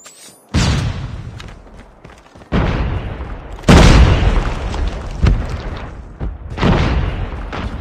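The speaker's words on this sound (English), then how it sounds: "Flashbang!" Flashbang grenade and combat blasts in a Call of Duty match, several loud booming bursts spaced irregularly over a rumbling background, with no talk.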